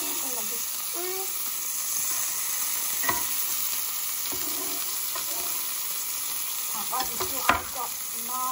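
Tomato frying in bacon fat in a cast iron pan, a steady soft sizzle with occasional stirring clicks and a louder scrape near the end, alone without talk.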